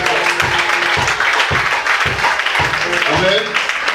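A church congregation at a prophetic morning service applauds and cheers loudly, dense clapping and shouting filling the space throughout, with voices calling out over it.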